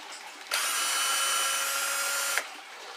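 A power drill loosens screws on an Echo CS-400 chainsaw during a carburetor replacement, giving one steady, close whine of about two seconds that starts and stops sharply.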